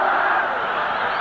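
A large football stadium crowd in 1975 roaring and chanting together, a dense, continuous wash of voices without distinct words standing out.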